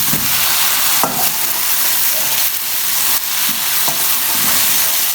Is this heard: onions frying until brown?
yes